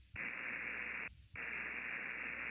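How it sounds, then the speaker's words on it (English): A homebrewed ham radio remote rig drops back to receive, its loud hiss of static cutting in abruptly, breaking off briefly for a moment, then resuming steadily. "And you can hear that in the background, the rig returns to receive."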